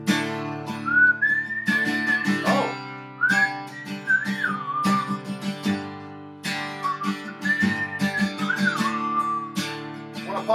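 A person whistles a flute solo line from a rock band song, a clear melodic whistle with sliding pitch phrases over steady background music, moderately loud and close.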